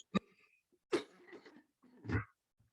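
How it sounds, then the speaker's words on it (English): A person coughs three separate times in a quiet room, each cough a short harsh burst with pauses between, the last one thicker and longer, followed by a faint click. "I've got a bad cough at the moment."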